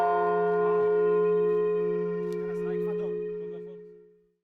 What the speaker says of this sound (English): The Holy Father rang and blessed 2 bells called the Voice of the Unborn